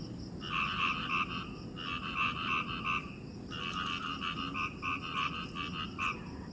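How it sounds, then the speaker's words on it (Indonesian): Frogs croak at night near a campsite in the forest, repeated bursts of loud rattling calls in rhythmic groups, with a short pause between them, over a constant hum of background night noise. "Kayak suara katak tapi kayak aneh, kayak bukan katak tuh teman-teman."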